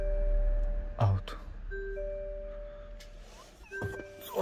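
A Hyundai i30N's door-open warning chime sounds as a few clean electronic tones that sustain and repeat, mixed with nearby clunks and handling thuds inside the car.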